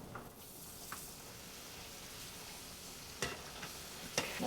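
Grilled cheese sandwiches fry in butter in a skillet, a soft, steady sizzle heard close up, broken by a few sharp clinks and scrapes near the end.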